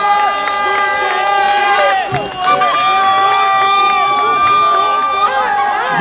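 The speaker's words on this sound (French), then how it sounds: "applaudissez pour elle." A political rally crowd at Uvira, South Kivu, cheers and applauds for Esther Fayulu, wife of candidate Martin Fayulu, in a steady loud roar with whistles and shouts, a speaker's voice carrying over the noise.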